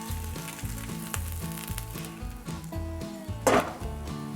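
Crab meat and corn fritters fry in a pan with a steady close sizzle and a brief louder crackling flare partway through, set against a repeating low rhythmic background.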